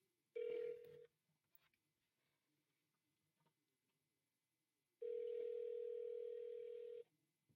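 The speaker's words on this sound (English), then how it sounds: "we're going to give him a call" A telephone call rings out, with two steady electronic ring tones separated by a few seconds of quiet line noise, faint and thin as heard through the handset.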